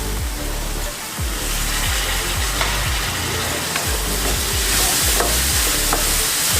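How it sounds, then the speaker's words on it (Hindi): Chopped onions and tomatoes frying for a Maggi pizza topping, a loud steady sizzle filling the pan with irregular low thumps and scrapes of stirring throughout, close up and without any voice. "दो से 3 मिनट इसको पकाएंगे टमाटर जब तक हमारे सॉफ्ट नहीं हो जाते।"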